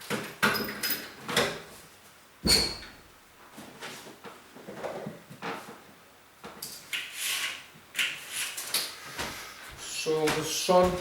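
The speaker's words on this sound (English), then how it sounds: "First I will open my door." A door is opened amid shuffling, rubbing and knocking handling noises, with scattered sliding and clunking sounds throughout and some brief talk in the background.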